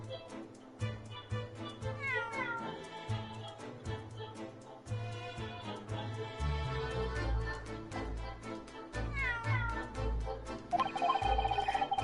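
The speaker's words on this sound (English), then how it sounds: "That was a cheeky little meow, Wagahai." A cat meows repeatedly in The Great Ace Attorney 2: Resolve, short rising and falling meows over a bouncy game music track, with a ringing chime near the end.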